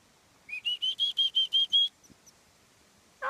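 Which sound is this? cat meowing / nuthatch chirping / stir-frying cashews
nuthatch chirping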